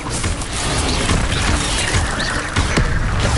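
A Bombarda spell explosion in Hogwarts Legacy booms and crashes, a sustained loud blast with rumbling debris and a few sharp cracks.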